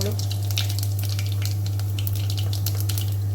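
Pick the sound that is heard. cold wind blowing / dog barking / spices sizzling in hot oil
spices sizzling in hot oil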